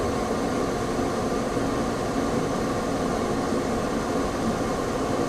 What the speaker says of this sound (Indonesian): Kita lihat juga kipasnya ini sudah mulai berputar maksimum.